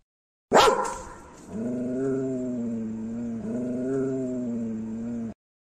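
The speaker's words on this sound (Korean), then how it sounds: "그런데 또 몽실이가 으르렁거리기 시작했어요." A dog growls low and steadily for several seconds, rumbling close by after a brief sharp onset.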